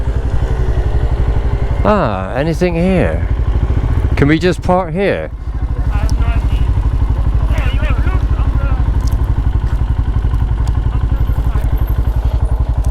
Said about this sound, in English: there's loads of motorbikes